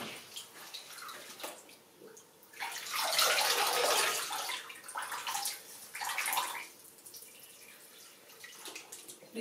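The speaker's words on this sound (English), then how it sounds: "the more you pour the hot water inside the front of your hair" Hot water is poured over the front of the hair during a scalp massage, splashing and trickling in uneven waves that swell loudly midway, then taper into softer drips and gurgles.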